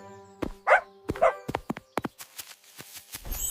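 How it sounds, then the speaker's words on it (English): A cartoon dog gives two short barks amid a run of quick, sharp clicking taps, set against an otherwise quiet background. "D is for dog. Dog."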